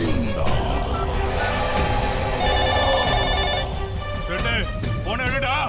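A telephone rings steadily in a Tamil film scene, its bright electronic ring running under loud dialogue and background sound for several seconds.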